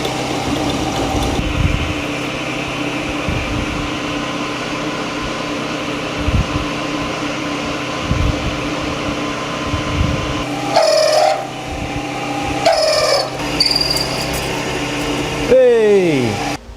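An underpowered old motor on a vintage milling machine drones steadily while cutting suspension parts bit by bit, a continuous hum running under brief bursts of speech.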